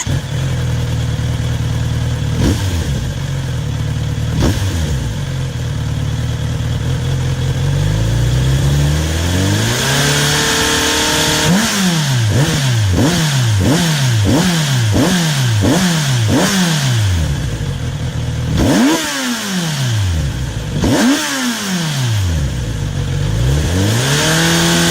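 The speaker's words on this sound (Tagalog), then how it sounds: "Kawasaki did a great job sa tuning nitong bike na to kaya stock exhaust pa lang solid na yung tunog" Kawasaki Z900 RS Cafe with an inline-four engine and stock exhaust, idling and then revving hard in a rapid string of sharp blips, followed by a few longer throttle pulls, loud and close with no talking.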